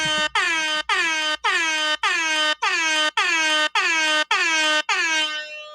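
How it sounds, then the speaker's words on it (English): An air horn blasts ten times in a steady, evenly spaced run of loud bursts, each about half a second long with brief gaps. The final blast trails off. No one talks. "Let's get those air horns in chat."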